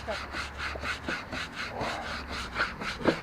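A scrubber is worked over a dirty, algae-coated wooden deck in quick back-and-forth strokes, giving rhythmic bristly rasping at close range, moderately loud, with faint background noise.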